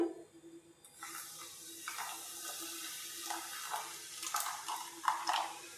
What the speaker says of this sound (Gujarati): એટલે માથે થોડું પાણી નાખશું.